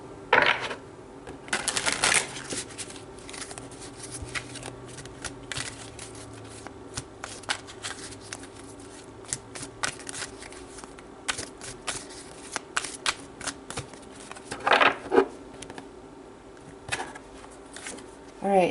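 Tarot cards riffle and slap together in several quick bursts, with a louder flurry near the start and another toward the end, soft shuffling and handling between them and faint background noise throughout.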